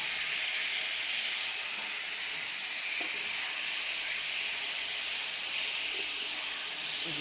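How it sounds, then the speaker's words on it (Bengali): Pointed gourd frying in mustard oil with salt and turmeric gives a constant, bright sizzling hiss, close and steady with no pauses and no talking. "ভেজে নিচ্ছি, প্রথমে ভেজে নিতে হবে লবণ হলুদ দিয়ে, একটু সরষের তেল দিয়ে ভেজে নিতে হবে।"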